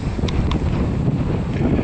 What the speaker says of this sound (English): Yeah, it's breezy up here